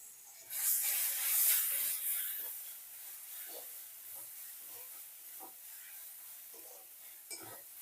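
Ginger, garlic and onion paste hits a hot pan with salt and turmeric, giving a loud hissing sizzle that flares up early, then settles into a softer crackle with occasional stirring scrapes.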